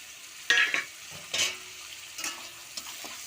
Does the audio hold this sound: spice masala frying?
yes